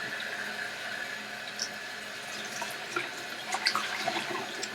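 Water from a tap runs steadily as a denture bath is rinsed under it, a constant hiss of flow with small splashes and clatters near the end, close and moderately loud, with no talking.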